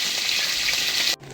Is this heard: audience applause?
no